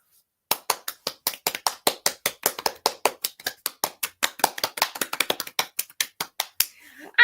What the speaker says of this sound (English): let's all give a round of applause to Renee